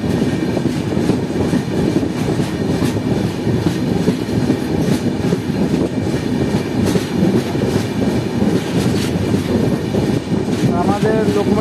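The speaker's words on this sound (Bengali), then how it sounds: "ফাইনালি আমাদের ট্রেন 1 মিনিট হল যাওয়ার পর কাঁথি রেলওয়ে স্টেশন ছেড়ে দিয়েছে।" The Tamralipta Express from Digha to Howrah, hauled by a Howrah Barrackpore locomotive, rolls on after leaving Kanthi station, heard from inside as a loud, steady rumble with rhythmic wheel clatter and a faint voice toward the end.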